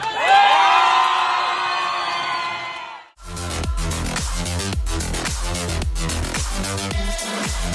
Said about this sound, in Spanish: quiero que me den un fuerte aplauso para Jenny